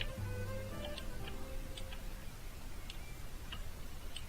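A clock ticks steadily and faintly in the Star Stable video game, soft regular ticks over a low ambient game background.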